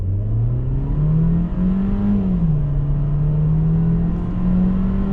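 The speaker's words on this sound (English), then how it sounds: "building up the revs" A 2026 Volkswagen Taos with a 1.5-liter engine revs up close and loud, its steady drone climbing in pitch, peaking, then settling back to a sustained hum, with no talking.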